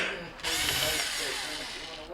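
A power driver whines steadily for about two seconds, backing screws out of the electronic control board inside a Whirlpool refrigerator, close and fairly loud with no talk over it.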